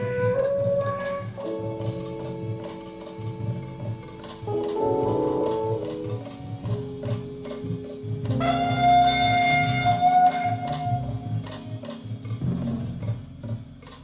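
A trumpet runs through a wah pedal from a mouthpiece pickup in a 1971 Berlin live recording, its filtered, vocal-sounding phrases rising and falling over a busy live band backing.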